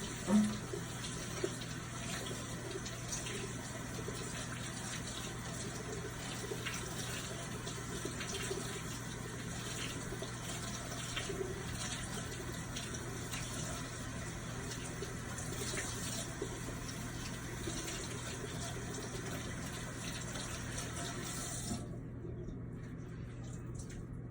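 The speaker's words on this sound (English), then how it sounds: "I'm gonna try rinsing it in some cold water now." Dyed fabric, coloured with Easter egg dye, is rinsed under a cold running tap, giving a steady, continuous splash of water into a sink that stops abruptly near the end.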